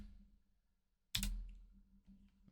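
Computer keyboard keys struck in a short burst of typing at a design workstation, one sharp cluster of clicks then softer taps, close and fairly loud over low room hum.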